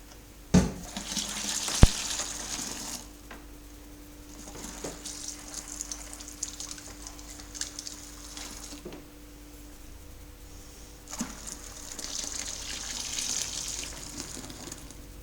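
Tap water runs steadily into a homebrew fermenter being filled for a Coopers Hop Slam IPA, a soft continuous gush with a couple of sharp knocks near the start and no talking.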